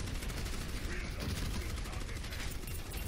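Turret fire in an Overwatch competitive match pours out as a steady, unbroken stream of rapid shots, fairly quiet and unchanging from start to finish.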